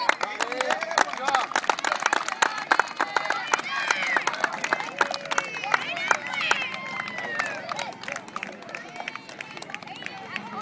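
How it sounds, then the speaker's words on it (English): A youth team after a game in a tournament claps in a dense, continuous patter of many hands, close and fairly loud, with some crowd chatter mixed in. "Give yourself a round of applause."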